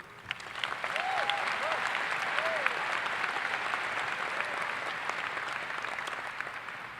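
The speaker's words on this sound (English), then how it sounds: "I think you all deserve another round of applause." Graduation ceremony audience applauding steadily for about seven seconds, a dense, even wash of many hands clapping with a few faint voices rising briefly.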